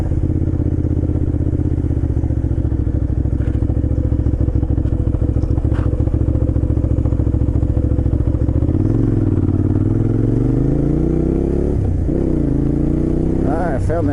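A motorcycle engine runs loudly and steadily at close range while riding down a road, then the pitch rises and falls as it slows, turns around and accelerates again.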